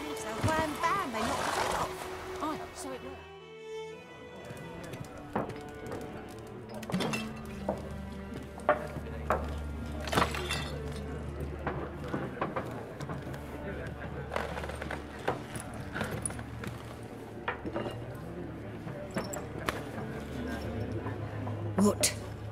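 Roach, a horse in The Witcher 3, neighs and its hooves clop under continuous game music, with a voice talking over it.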